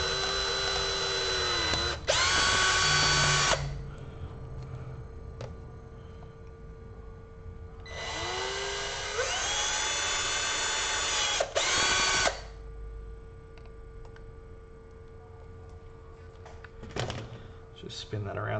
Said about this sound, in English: Being very careful not to drill ourselves.